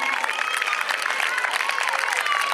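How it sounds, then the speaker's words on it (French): Spectators clapping as a runner crosses the finish of a 10 km road race in Balma, a steady wash of applause with some crowd noise throughout the short stretch. "applaudissements pour Julie Natchez qui en termine en troisième position."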